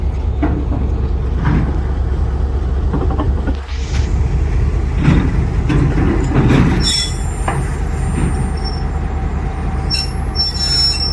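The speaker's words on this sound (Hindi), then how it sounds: "ये देखें लोकोमोटिव इसके ऊपर आ रहा है।" A locomotive rolls slowly onto a railway turntable at a junction, steel wheels squealing in long shrill bursts over a steady low rumble, close and loud throughout.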